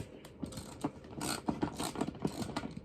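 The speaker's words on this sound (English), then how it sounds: "So you just need a 10mm socket on a ratchet" A 10mm socket on a ratchet clicks as it removes the seat brackets from a 1983 Yamaha VMX motorcycle, giving quick close ticking bursts with small metallic clanks between them.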